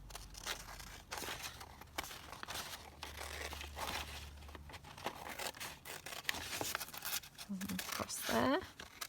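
Paper file folder being trimmed with scissors, dry crinkly snips and cuts running through under steady talk from a nearby voice.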